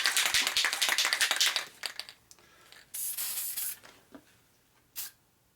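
Spray can applying a coat onto 1947 Harley-Davidson EL knucklehead 74ci motor case parts, a close hissing burst for about two seconds, then shorter separate sprays with quiet gaps between them.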